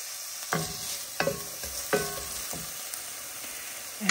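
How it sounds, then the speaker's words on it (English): Onion and garlic sizzle in olive oil under a soft, steady frying hiss, with a handful of sharp spoon scrapes and knocks against the pan at irregular intervals, no one talking. "I'm going to add my onion and my garlic right in here. We're going to saute this off a little bit."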